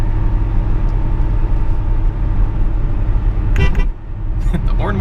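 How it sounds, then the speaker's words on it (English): A BMW E30's horn sounds as two short honks over the steady rumble of the engine and road noise heard from inside the moving car. "The horn works, that's good."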